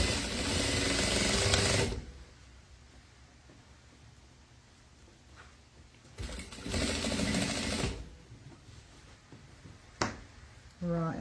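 A sewing machine stitches a half-inch seam on a wedding gown in bursts, each a few seconds long and separated by quieter pauses, loud and close.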